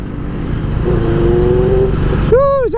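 A Benelli 600i inline-four superbike engine drones loud and close, its pitch climbing steadily as it revs before a sharp, warbling rise and dip at the end.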